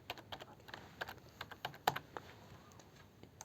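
A password being typed on a computer keyboard: a steady, uneven series of soft, close key clicks, with one sharper press standing out midway, over quiet room background.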